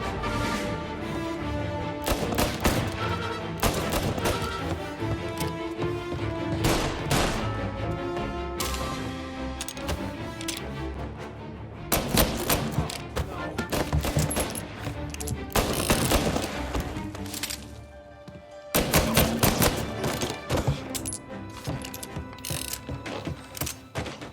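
Dense, sustained gunfire from a firefight in the video game Mafia: Definitive Edition, with bursts layered over a continuous bed of game music and effects, loud throughout and no speech.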